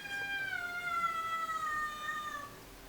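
Cats meowing in a long, drawn-out call that slowly falls in pitch, fairly close and clear over a quiet room background, with no one talking.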